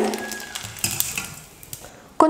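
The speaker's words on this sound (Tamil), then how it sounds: "கொஞ்சம் சேமியாவை எடுத்து எண்ணெயில போட்டா எண்ணெய் காஞ்சிருச்சா இல்லையான்னு தெரிஞ்சிடும்" Vermicelli dropped into hot oil in a kadai, giving a close, loud sizzle with stirring and clinks of utensil against the pan, and a sharp metallic clatter at the end.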